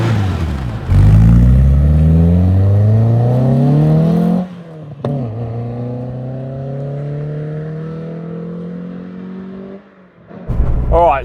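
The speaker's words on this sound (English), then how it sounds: "Let's give it a few baby revs." A Renault Clio 172 engine revs up sharply several times, pitch climbing and falling, then settles into a lower rising drone before another brief rev near the end.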